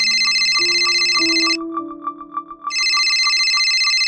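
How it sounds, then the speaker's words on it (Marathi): A mobile phone rings in a home with a repeating electronic ringtone, two loud bursts separated by a short pause filled with ticking and soft tones, heard close and with no talking. "ओवी, हो जरा फोन बघ ना, जाधवांचा असेल तर सांग माल निघालाय."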